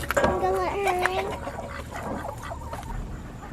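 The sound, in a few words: chickens clucking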